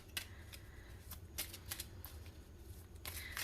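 A Major Arcana-only tarot deck is shuffled and cards are drawn, giving quiet, close papery riffles and slides in short irregular bursts over faint low hum.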